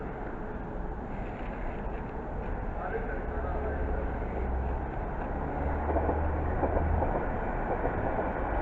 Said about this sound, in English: the next train to arrive is going to be a London Underground Met Line service from Chesham to Baker Street